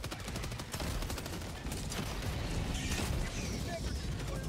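Electro-Ball shotgun firing in Helldivers 2, a dense, continuous stretch of loud crackling blasts and rumbling booms with no pauses, overlapping battle noise throughout.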